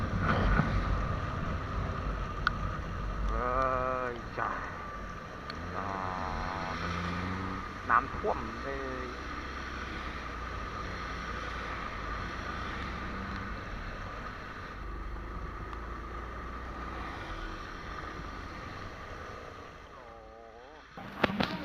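A Honda MSX motorcycle rides through knee-deep floodwater on a rainy road, with a steady engine drone, wind buffeting and continuous splashing and water rush throughout.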